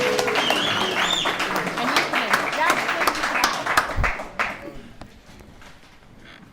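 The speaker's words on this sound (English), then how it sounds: "Let's give a big, warm round of applause for Brody." Audience applause welcomes the main speaker at a recovery services alumni meeting, a dense crowd clapping over murmuring voices that thins out and fades after about four seconds.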